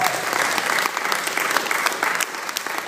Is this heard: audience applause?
yes